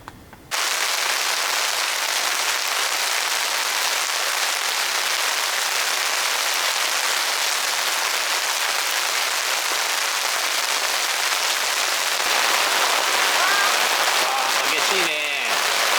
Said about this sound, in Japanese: 雨降ってきちゃったね、やっぱり。